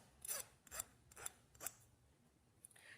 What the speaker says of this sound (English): Then with a file, just go ahead and sharpen that end up.